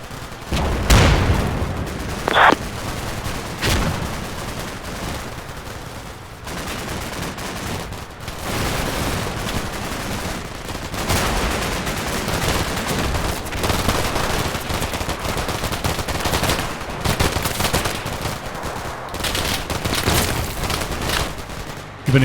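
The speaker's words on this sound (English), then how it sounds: "BTRs are doing a great job of shooting and scooting." Video-game combat from a Cold War setting, with BTR armored vehicles firing: repeated bursts of automatic gunfire and scattered booms, some close and sharp, others distant, forming a continuous battle din without speech.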